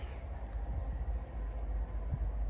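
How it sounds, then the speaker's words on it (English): Low, steady rumble of a Leeds service train arriving at a station, with deep rail noise and faint clanks throughout. "this is our train now"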